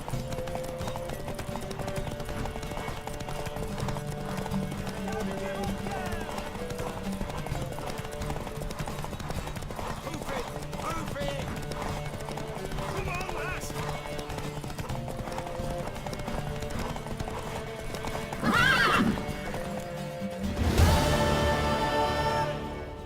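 Hoofbeats of a horse galloping in a horse race in the video game The Witcher 3, a steady clip-clop rhythm under game music, ending with a louder burst of noise near the finish.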